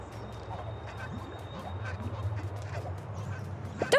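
Goose calls from the video game Atomic Heart, several short honks and quacks repeated over a steady low game hum, moderately loud, with faint speech in the background.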